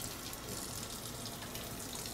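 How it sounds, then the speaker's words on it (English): Tap water runs steadily into a kitchen sink while roasted red peppers are being peeled, a continuous close gushing hiss with no talking. "So I'm just gonna get a little water running"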